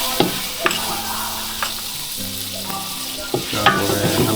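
Ginger paste added to a large pot of khichuri and stirred as it fries, loud steady sizzling with repeated clattering scrapes of a spoon against the pot and a low hum underneath, no talk.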